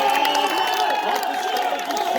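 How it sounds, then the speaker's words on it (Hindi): A large crowd at a political rally in Bhimber, Azad Kashmir applauds and cheers in a continuous, loud wash of clapping to welcome the speaker, with crowd voices mixed throughout. "हाथ उठा के तालियों की गूंज में इस्तकबाल कीजिए"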